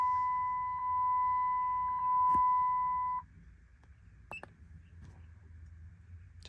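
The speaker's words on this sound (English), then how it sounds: "Let her beep out." A 4th gen steering wheel fitted to a 3rd gen Plus car with a tuner powers up and emits a steady electronic beep tone with brief dips for about three seconds, then stops, leaving quiet background hum and a few clicks.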